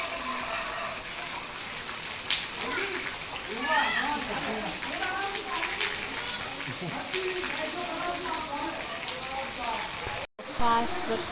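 Heavy rain falls in a steady, hissing wash while several people talk over it, and the sound drops out briefly near the end.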